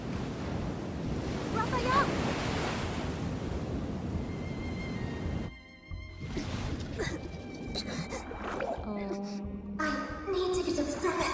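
Ocean surf rolls and rushes in the Love and Deepspace video game, a steady wash of waves and wind that gives way to game music and effects as a voice calls out.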